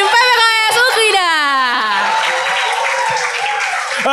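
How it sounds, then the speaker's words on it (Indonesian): An audience at a student orientation session on anti-sexual-violence education cheering with high whoops and clapping for the PPKS Ukrida team, a loud burst of voices settling into sustained applause. "Bagi tepuk tanganmu ya untuk tim PPKS Ukrida."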